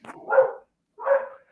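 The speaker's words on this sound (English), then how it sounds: "that's the dog." A big, excitable young dog gives two loud, close barks about half a second apart, with nobody speaking over them.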